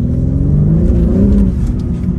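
A BMW G80 M3 doing burnouts, its engine held at a loud, close, sustained rev with a deep rumbling drone and rising pitch, no voices over it.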